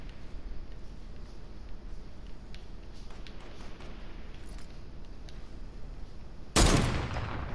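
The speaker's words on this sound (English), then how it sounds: "I'm trying to snipe him" One loud sniper rifle shot in Fortnite, cracking sharply near the end after several seconds of quiet ambient game noise with faint distant clicks.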